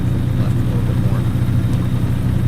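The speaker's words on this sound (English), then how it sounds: "And right now it's chugging to try and get up this hill" Engine of a Chevrolet Equinox labouring as the car drives uphill: a continuous low, heavy rumble heard from inside the cabin, steady and fairly loud.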